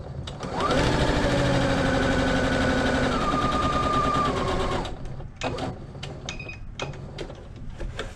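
A sewing machine runs steadily at close range, hemming the short ends of a fabric strip for a child's scrunchie, then stops and gives way to short clicks and handling.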